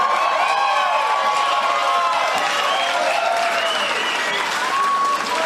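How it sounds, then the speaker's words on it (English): Loud, sustained crowd applause with some cheering and whoops at a Northern Territory election night speech in Australia, dense clapping carrying on steadily throughout. "give a huge round of applause to Gerard Maley"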